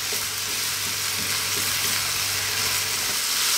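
Ground beef, onions and garlic frying in a pan for a pasta meat sauce, a loud, continuous close-up sizzle with no voices.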